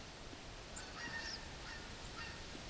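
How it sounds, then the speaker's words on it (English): Geese honk faintly in the distance across an open field, a few scattered calls over a steady windy outdoor hiss. "there are the geese also in this field"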